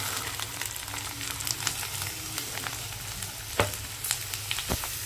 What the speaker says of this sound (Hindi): इसे अभी हम हिला लेंगे अच्छी तरह से।